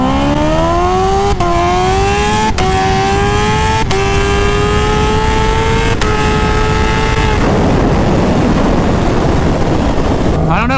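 A stretched 300HP Kawasaki H2R motorcycle accelerates hard in first gear, its engine note rising steadily through several quick climbs, each cut by a sharp break, before giving way to loud rushing wind noise.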